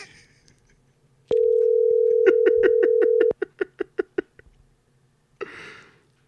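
A phone's steady dial tone holds for about two seconds, followed by a quick run of sharp electronic beeps and a short burst of noise at the end, with no talking.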